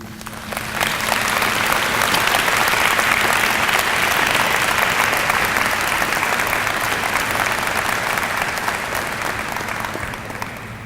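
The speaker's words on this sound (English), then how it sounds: "Let's give her another round of applause." Audience applause at a university honors day convocation, a full hall of clapping that swells in quickly and stays loud and even for around ten seconds, tapering slightly toward the end.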